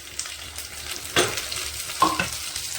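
Chopped tomatoes and green chilies frying in a pan, a soft, close sizzle with two brief louder stirring scrapes partway through.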